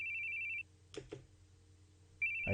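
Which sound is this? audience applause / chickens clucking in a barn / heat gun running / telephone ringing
telephone ringing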